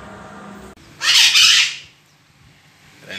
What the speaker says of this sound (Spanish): lo importante es que las aves están aquí, comiendo y tomando agua.